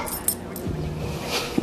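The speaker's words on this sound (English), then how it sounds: "Who's this, your drug-sniffing dog?" A drug-sniffing dog in an indoor scene gives a brief whimpering whine up close, surrounded by soft sniffs and a couple of light clicks.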